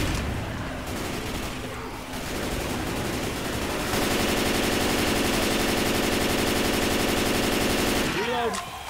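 Rapid automatic gunfire in a video game, sustained bursts of machine-gun fire loud and close for most of the stretch, with shouted voices over the shooting.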